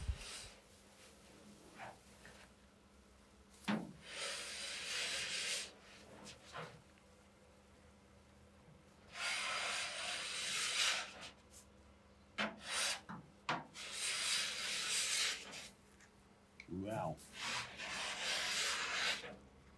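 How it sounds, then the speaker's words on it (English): A tungsten blade with filed-down tips scraping thick stripped car paint, making long, rough rasping strokes in bursts separated by brief pauses, close and fairly quiet. "This is a tungsten blade."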